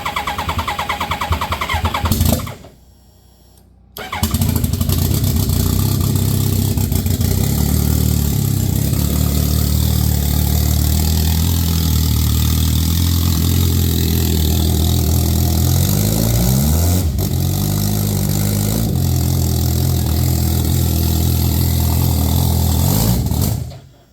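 A newly built, untuned engine cranks and catches, stumbles briefly, then restarts and settles into a loud, rough, steady idle heard up close for about twenty seconds, with slight wavering in pitch.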